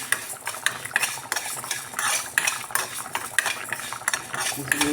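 Raw fish curry pieces coated in masala being fried and stirred in a pan, a dense sequence of metal utensil scrapes and clinks over a low sizzle, close and rhythmic, with no talk.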